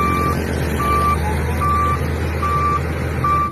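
A toy excavator truck gives a loud, steady run of electronic reversing beeps, five even pulses over a constant droning whir close to the listener.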